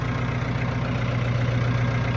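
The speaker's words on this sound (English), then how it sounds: "because I am on the tractor." A tractor engine idles steadily at close range, a low, even rumble with a faint knock running through it and no talking over it.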